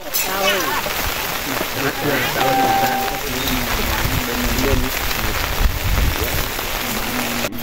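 Rain falls continuously around a rock cave shelter in the forest, a dense steady patter heard beneath people talking.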